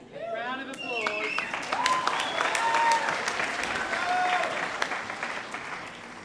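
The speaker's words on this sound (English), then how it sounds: "Round of applause." Applause from the audience at a Year 12 high school graduation ceremony, steady clapping lasting several seconds with voices talking over it.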